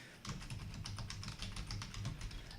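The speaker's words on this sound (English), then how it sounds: "Typing. We can do typing." Someone types on a computer keyboard in a quick, uneven clatter of keystrokes, close and moderately quiet, with no talking.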